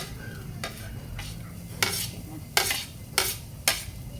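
Garlic sizzles with ginger in a pan for pinikpikan or dinuguan, with about five sharp scraping stirs of a utensil cutting through a steady, close frying hiss.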